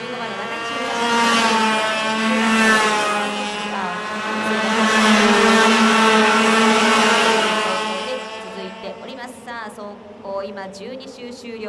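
FS-125 racing karts lapping in a regional kart championship race, their high-pitched engines droning loudly and rising and falling as they pass, with a commentator talking over them.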